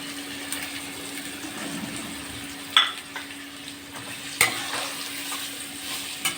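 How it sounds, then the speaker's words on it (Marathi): Raw mango pieces with salt and asafoetida sizzle in a pan while being sautéed, a soft steady frying hiss broken by a couple of sharp spatula clinks against the pan. "कैरीचे फाका आपण 2 ते 3 मिनिटं चांगल्या प्रकारे परतून घेऊ।"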